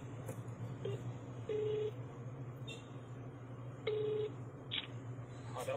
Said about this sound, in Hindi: तो हमने पहले जिनसे बात की थी उनको फोन लगा के कह देते हैं